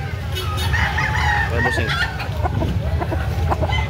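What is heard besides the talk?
rooster clucking and crowing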